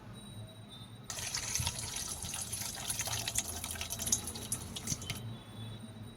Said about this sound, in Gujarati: હવે છાલ ઉતારી લીધી છે તો આપણે બટાકાને ધોઈ લઈશું